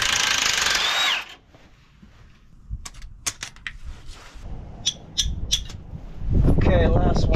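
A power tool works on the last bolt during a trailer brake replacement: loud whirring bursts at the start and end, with scattered metallic clicks and handling noises in between.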